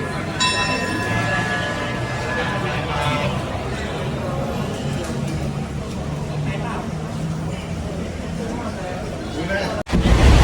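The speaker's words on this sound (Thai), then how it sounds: "นี่สัญญาณออกรถมาแล้วนะครับ" Ordinary train No. 201 Bangkok–Phitsanulok pulls out of Ayutthaya station, a bright ringing departure signal tone at the start over a steady rumble of the train and platform, ending in a sudden loud knock.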